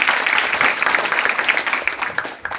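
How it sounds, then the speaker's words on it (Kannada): An audience claps at a school event, a dense, steady burst of applause that stays loud throughout with slight dips near the end. "ನೀವು ಹೊಡಿತಿರೋ ಚಪ್ಪಾಳೆ ಎನರ್ಜಿ ಈ ಕಡೆ ಪಾಸ್ ಆಗ್ತದೆ"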